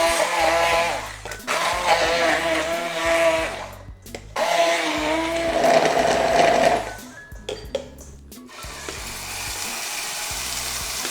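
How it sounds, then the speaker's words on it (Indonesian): A kitchen blender whirs loudly and steadily while blending spice paste ingredients with water, its motor pitch wavering as the load shifts, briefly stopping and restarting before running on. "Langsung di blender."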